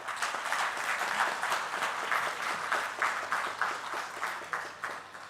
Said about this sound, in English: So I request to you to, applaud them with the claps also.